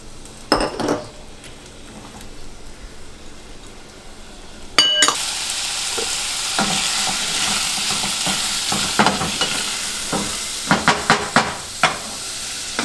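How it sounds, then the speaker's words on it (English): Onions and garlic sauté in cooking oil in a pot, a loud, close sizzle that swells after a few seconds, with occasional clinks and scrapes from stirring utensils. "We're going to start with the onions and garlic until they're about translucent and cooked."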